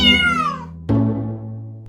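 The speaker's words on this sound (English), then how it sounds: "A low meow is a complaint or indication of dissatisfaction" A cat gives two meows, the first a falling, drawn-out cry and the second a shorter, lower call after a brief pause, both close and clear.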